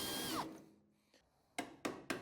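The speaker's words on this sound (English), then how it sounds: "Here I've got a spot weld drill bit that I picked up from Amazon." A spot weld drill bit cutting into metal while working on a Ford F150: a short whining spin that winds down, then three sharp quick bursts of drilling near the end, close and fairly loud.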